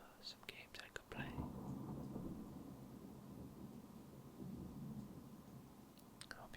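A steady, soft rain and thunderstorm rumble plays low and continuous behind a close, quiet whispering voice that speaks at the start and the end.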